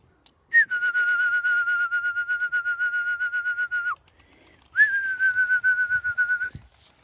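Two long, steady high-pitched human whistles calling Polish Orlik pigeons, each held for a few seconds with a pulsing warble, sounding close and alone in a quiet setting.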